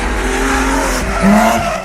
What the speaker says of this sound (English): Like motorcycles and sports cars are more than 100 decibels.